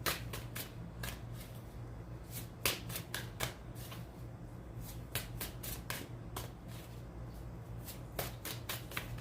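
Tarot cards being shuffled and drawn by hand, a steady flurry of close papery flicks and snaps over several seconds, with occasional louder slaps of cards, no talking.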